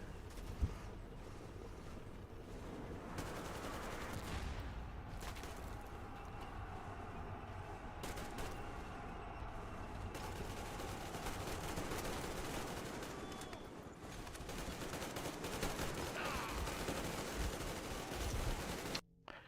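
Sustained, dense gunfire from a Metro Exodus firefight, loud and continuous, with rapid automatic bursts layered over a constant roar of battle and no talk.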